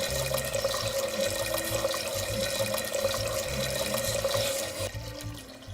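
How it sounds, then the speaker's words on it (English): Water runs steadily from a tap into a cooking pot, a continuous loud splashing stream for about five seconds before it abruptly cuts off. "First, I'm going to add a little bit of ionized nuclear water."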